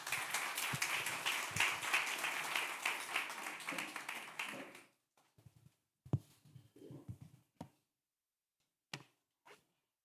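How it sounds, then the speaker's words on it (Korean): Church congregation applauding a guest pastor at a leadership retreat, a dense, steady clapping that fills the first five seconds and then breaks off into a few scattered taps and bumps. "힘차게 박수 한번 하겠습니다"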